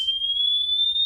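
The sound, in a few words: 3000 hertz test tone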